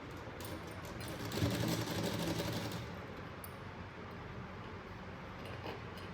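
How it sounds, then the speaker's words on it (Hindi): A sewing machine runs a short stitch along folded suit fabric set on buckram: a quiet, rapid mechanical whirring burst lasting a couple of seconds, then fading to a faint background hum. "इसको फोल्ड करेंगे और एक पैर की सिलाई हम लगाएंगे"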